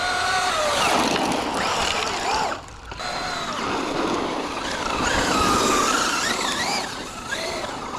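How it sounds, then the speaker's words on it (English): A Traxxas 1/8-scale RC car drifts around a dirt track, its high-pitched electric motor whining and rising and falling in pitch through repeated slides, loud and close throughout with a brief dip midway. "You gotta be like Ken Block over here, drifting."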